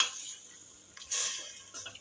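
A spoon stirs and scrapes curry tart filling in a bowl, giving soft intermittent clinks and scraping bursts, closely miked with quiet pauses between strokes.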